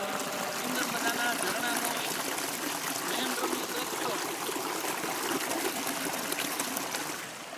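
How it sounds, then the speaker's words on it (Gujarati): Mountain stream water rushing steadily along the Girnar trail, a continuous close, full-bodied flow with no pauses. "પાણીના અવાજ સિવાય બીજો કોઈ પણ જાતનો અવાજ નથી તમે સાંભળી શકો છો પાણીનો અવાજ"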